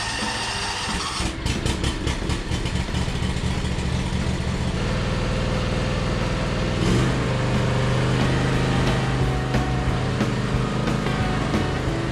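A John Deere X320 riding mower engine, just repaired after fuel trouble, runs outdoors at full throttle, a loud, close, steady drone that holds evenly throughout with only slight shifts in pitch.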